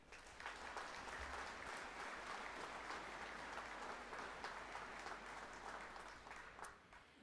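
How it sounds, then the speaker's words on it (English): Sustained applause from a college commencement audience honoring veterans, a dense, steady wash of clapping hands that continues for several seconds without pause. "Let's please give veterans a round of applause"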